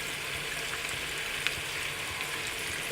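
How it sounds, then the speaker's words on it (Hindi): Chicken frying in a pan with nihari masala, giving a steady close sizzle with small crackles and one sharper pop, and no talking. "अब इसको मसाले के साथ अच्छी तरह भून लेंगे"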